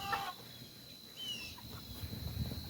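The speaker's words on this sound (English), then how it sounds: "the meat birds are doing their thing" Chickens cluck softly, with a few higher calls, over a steady background hum.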